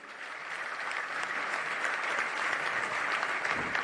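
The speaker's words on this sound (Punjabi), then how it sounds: "ਇੱਕ ਵਾਰੀ ਕਿਸਾਨ ਯੂਨੀਅਨ ਦੇ ਨਾਂ ਤੇ ਜ਼ੋਰਦਾਰ ਤਾੜੀ ਹੋ ਜੇ" Sustained applause from a crowd at a farmers' union gathering, many hands clapping steadily at moderate distance, without a break, for a few seconds.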